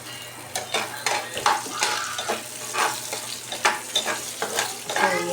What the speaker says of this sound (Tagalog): Mag-scramble tayo. Ilagay ko kamatis at sibuyas.